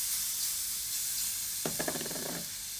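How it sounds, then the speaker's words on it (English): Finely chopped garlic drops into hot oil in a wok for a black bean chicken stir fry, setting off a sudden loud sizzle and crackle after a quiet hiss, then fading to a softer fry. "I'm going to add some aromatic ingredients inside the oil to flavor the oil"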